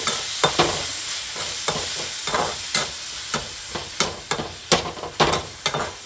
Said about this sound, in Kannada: ಹಾಕಿದ ತಕ್ಷಣ ಫ್ರೈ ಮಾಡ್ಕೊಳ್ಳಿ.